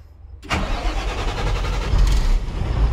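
SHACMAN F2000 truck engine cranked and starting after a lost ground wire was fixed, a sudden loud catch that settles into a rumbling close idle with no talk.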